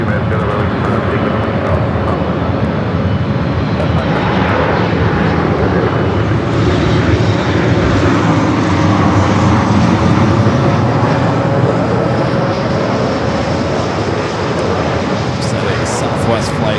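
A Boeing 787-8 Dreamliner bound for Tokyo Narita rolls down runway 24 left at LAX, making a steady, loud jet roar with a constant tonal whine, while a voice talks throughout.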